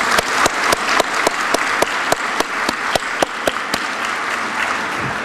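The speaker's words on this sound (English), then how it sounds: "help me give them another round of applause" Steady audience applause at the Marion County Chamber banquet, with sharp individual claps standing out close by over a dense wash of clapping that holds throughout.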